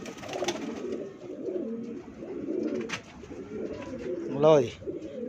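Jonsre pigeons coo in a loft, low throaty calls running under a man's speech, with one louder rising coo near the end.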